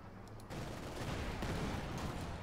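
Machine gun fire from the real-time strategy game Company of Heroes 2, a dense continuous rattle of rapid bursts that starts abruptly after a brief quiet moment and stays loud and steady throughout, with no talk over it.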